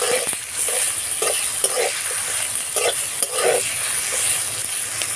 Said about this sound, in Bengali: দিয়ে নাড়াচাড়া করে শাকগুলো দিয়ে দেব